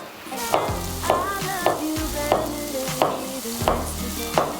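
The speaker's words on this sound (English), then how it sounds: "So while my luncheon meat is pan frying" Steady oily sizzling of luncheon meat frying in a pan, with periodic scraping and clinking of a utensil against the pan, close up.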